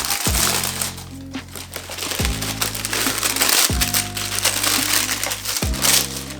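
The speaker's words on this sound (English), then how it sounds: "we've got this standard tissue paper." Standard tissue paper crinkling and crumpling while Nike iSPA React Low Summit White shoes are unboxed, loud close rustling with repeated sharp crunches and no talking.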